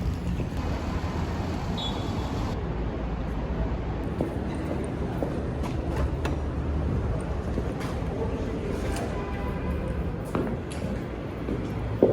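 Ambience inside Grand Central Station, a New York train station: a dense, echoing wash of crowd murmur, footsteps and scattered clatter, with a shift in the background noise partway through and bumps and knocks near the end.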